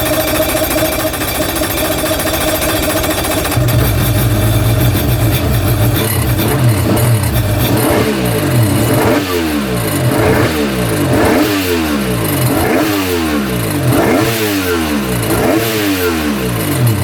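A jet ski engine with a recently repaired exhaust leak starts out idling with a rough, buzzy drone, then revs repeatedly in rising and falling surges, loud and close, with no talking.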